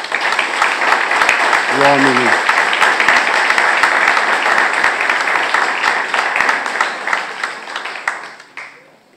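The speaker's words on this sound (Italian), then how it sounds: "volevo iniziare con un applauso a questi due straordinari" An audience claps for two people at an Italian talk, a dense, loud round of applause that carries on for several seconds before tapering off. A voice briefly speaks over it early on.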